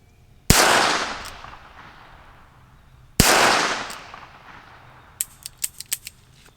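Two sharp gunshots from a Rossi Plinker .22 LR snub-nose revolver, each a loud crack followed by a long decaying echo, spaced a few seconds apart, then a quick run of faint metallic clicks.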